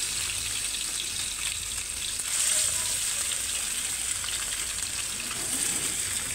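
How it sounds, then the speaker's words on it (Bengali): Koi fish frying in hot oil in a home kitchen for a Bangladeshi tomato-paste koi bhuna, a loud continuous sizzle with crackling that swells briefly as more fish go in, no speech. "এখন এক একটি করে কই মাছ আমি এখানে দিয়ে দিচ্ছি। তো চলুন এভাবে মাছগুলো ভেজে নিই।"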